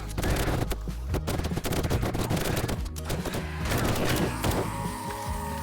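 Rapid, loud gunfire from a gun fitted with a rad remover mod in the survival game 7 Days to Die, crackling in dense bursts during horde night with impacts and crashes mixed in.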